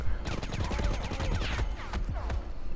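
Sustained automatic gunfire rattles on in the video game Army of Two, during a back-to-back fight on an aircraft carrier, with rapid overlapping bursts and shots forming a dense, continuous fusillade.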